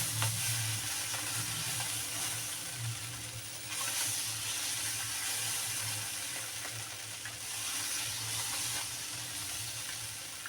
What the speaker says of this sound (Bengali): গ্যাসের উপর তাওয়াটা দেবো এবার আমি হাত দিয়ে ছিটিয়ে ছিটিয়ে দেবো